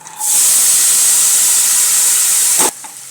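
Dingri, the radish pods, drop into a hot spiced pan and give off a sudden loud hiss that holds steady for about two seconds, then cuts off sharply with a clatter, close up and with no voices.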